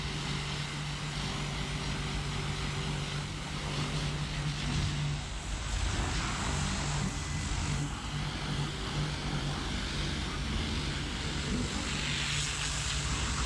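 A pressure-washer water jet blasts mud and dirt off an abandoned car painted like SpongeBob's, with graffiti showing through. The spray is a steady, loud, close hiss with a motor drone under it, running unbroken throughout.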